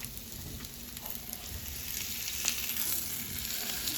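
Food frying in hot oil for a simple Thanksgiving meal, with a steady close sizzle and scattered small pops and crackles throughout, no voices.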